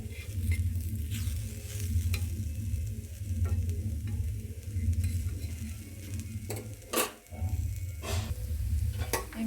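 Fresh green peas dry-roasting on an iron tawa, a steady low crackle and sizzle with repeated scraping stirs and occasional sharp metal clinks, close and continuous, no talking.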